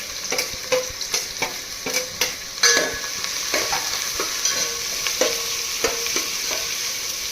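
Onions fry in oil for chicken biryani, a close, bright sizzle punctuated by regular spatula strikes and scrapes against the pan roughly every half second, with no talking.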